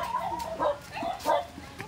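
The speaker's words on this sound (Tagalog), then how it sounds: "madaming aso dito sa daanan namin" Several dogs bark along a walking path near a fishpond in the Philippines, a few short yelps and barks at moderate distance over steady outdoor background noise.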